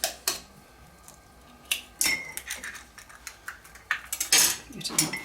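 Eggs being whisked into lemon drizzle cake batter in a bowl, giving irregular clinking metal-on-bowl taps and scrapes in uneven bursts, fairly close and moderately loud, with no talking.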